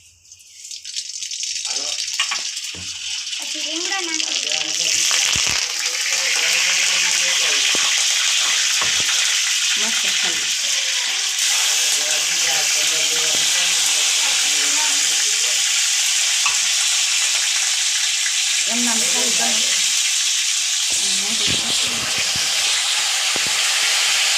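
Mustard seeds and sesame seeds crackle and sizzle in hot oil, a dense, loud, continuous frying hiss with scattered popping that builds quickly and holds steady.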